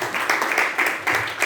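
An audience applauds at a Toastmasters-organized youth leadership grand finale, a steady, fairly loud patter of many hands clapping together without a break.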